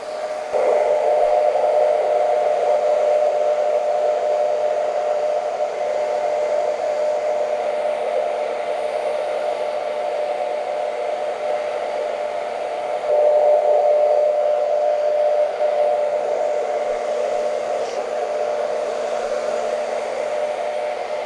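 Hair dryer blowing on curly hair, a loud, steady whooshing drone with a constant whine that runs without pause, briefly shifting in pitch partway as the dryer moves; no talking.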